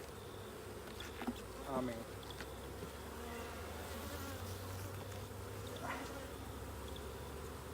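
Honeybees buzz densely around an opened beehive full of honey frames, a continuous close swarm drone; a person briefly says a few words over it.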